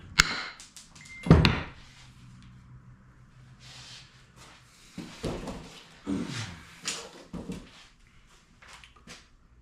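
A loose axe head is knocked back down onto its handle with one sharp, heavy knock early on, followed by a few softer thumps and handling sounds in a quiet room.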